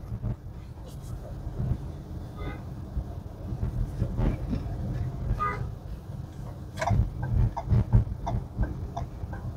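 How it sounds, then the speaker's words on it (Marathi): A Mumbai Metro Line 6 (Pink Line) train moves along an elevated track, making a low, continuous rumble with occasional clicks and ticks. Faint voices are heard in the background. "आता ही फिरून मेट्रो समोरच्या दिशेला चालली आहे"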